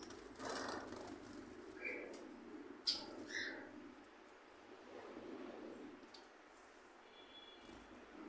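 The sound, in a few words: Gouldian finches chirping in a bird loft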